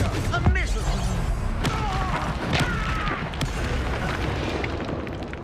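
A Confringo spell bursts in Hogwarts Legacy, a fiery magical blast with a thudding impact early on, followed by rumbling, crackling debris and sustained roaring noise, with a voice speaking over it.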